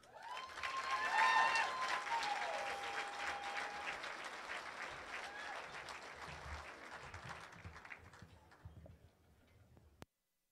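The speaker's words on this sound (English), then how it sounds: "Ladies and gentlemen, let's have one more round of applause for all of our pro class." Banquet crowd at an Iron Dog racers' event breaks into applause that swells early, then gradually dies away to scattered claps before stopping abruptly; a faint tone rings over the start.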